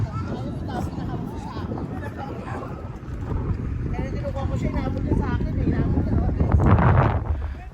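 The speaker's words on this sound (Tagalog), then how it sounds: "Medyo malakas ang hangin pero okay lang." Strong wind at Waterton buffets the microphone with a constant low roar that swells toward the end, while people talk beneath it.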